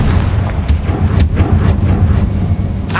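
A Confringo fire spell explodes in the video game Hogwarts Legacy, producing a series of sharp, loud bursts over a constant low rumble, without any talk.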